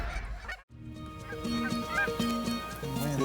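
Canada geese call in a waterfowl hunting setting in Saskatchewan, a string of honks repeating over a steady outdoor background after a brief drop to near silence, fairly close and loud.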